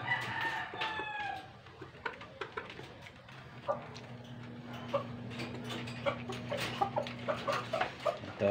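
Chickens cluck at feeding time, with a rooster crowing early on and then short clucks and pecking taps repeating close by over a steady low hum.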